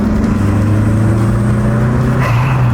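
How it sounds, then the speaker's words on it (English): A rare used car's engine revs hard with audible turbo noise, a loud, close, continuous drone with strong low tones that lifts slightly in pitch toward the end. "Oh, it makes a lot of turbo noise."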